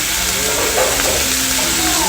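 Steak sizzling loudly on a hot plate at an Ikinari Steak restaurant in Japan, a close, continuous hiss and crackle of frying meat with a voice faintly talking underneath.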